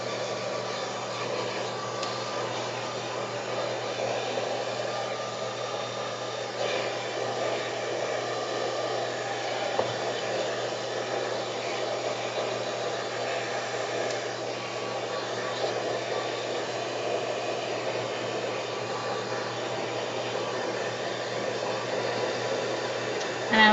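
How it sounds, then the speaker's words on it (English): A loud, fast hair-style dryer blows hot air over a junk journal page, a constant steady whooshing drone with no breaks for the full length. "I'm going to use my louder, faster dryer."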